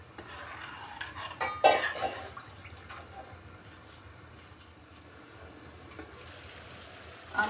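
Minced chicken lasagna filling being mixed in a pan, with a few sharp utensil scrapes and clinks near the start, then a quieter, steady low shuffle of stirring and a final clink at the end.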